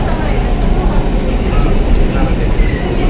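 A Kolkata metro train runs with a loud, steady low rumble and faint rattling from inside the carriage, with voices murmuring underneath.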